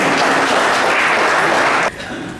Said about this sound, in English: let me welcome him with a big 3 cheers and a big load of applause